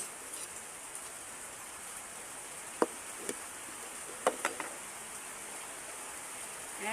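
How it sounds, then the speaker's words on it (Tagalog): Rain falling outside at night, a steady soft hiss with a few scattered sharp drips and taps, faint and continuous. "Umuulan dito ngayon sa amin guys."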